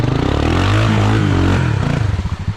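A Honda Big Red engine revs wide open in second gear while climbing, a loud close roar with rapid pulsing that breaks into choppy bursts near the end.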